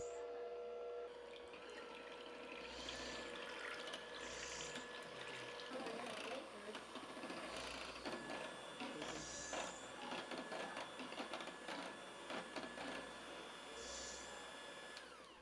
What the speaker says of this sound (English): going to use my electric hand mixer and I'm going to beat this heavy cream for 3 minutes